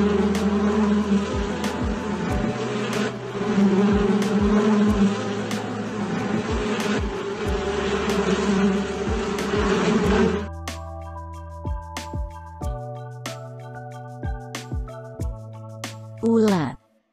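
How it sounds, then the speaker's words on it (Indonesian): A steady insect buzz drones for about ten seconds, then gives way to quieter, intermittent tones. "Lebah."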